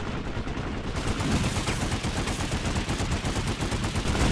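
Sustained automatic gunfire in the online shooter Planetside 2, a dense, loud burst of rapid shots running continuously from start to finish with no pauses.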